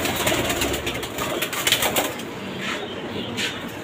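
Highflyer pigeons coo in a loft in Lahore, a close soft throaty murmur with occasional wing flutters and faint voices behind.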